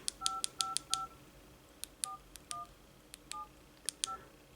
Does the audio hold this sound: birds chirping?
no